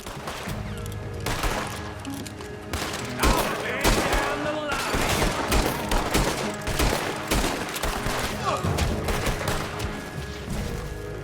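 Sustained gunfire in the Red Dead Redemption 2 video game, dense overlapping shots and bursts with a steady wall of battle noise for the whole stretch, mixed with voices and shouting.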